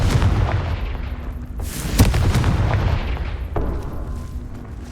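Confringo fire spell explosions in the Hogwarts Legacy video game: a dense barrage of loud booming blasts over rumbling combat noise, with sharper cracks near the two-second mark and again near four seconds.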